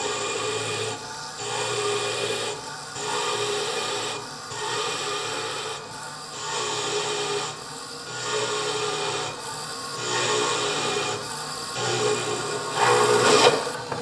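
A drill grinds through a stone bead in repeated rasping bursts, each lasting about a second with short pauses between, growing louder near the end.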